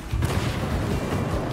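A cartoonish explosion in the brawler game Party Animals, a dense, loud low boom and rumble that fills the whole moment, with no talk over it.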